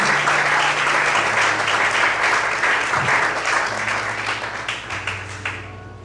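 A church congregation claps and applauds during an evening worship service, steady dense applause filling the room for several seconds with a sustained low organ or keyboard tone beneath, gradually tapering toward the end.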